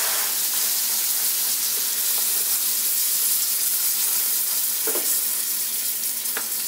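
Butter sizzles in a hot pan as burger buns toast for a homemade cheeseburger, a steady bright frying hiss close up with a few faint clinks, and no voices.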